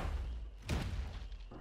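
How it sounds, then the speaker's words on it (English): Rocket impact in the survival game ARK during a raid: one heavy, booming thud over a rumbling background, followed by a fainter thump. "Watch, they're shooting rockets at you"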